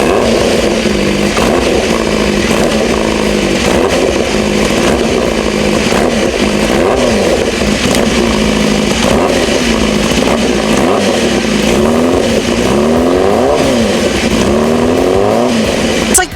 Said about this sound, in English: There's still a hesitation when you hit the throttle.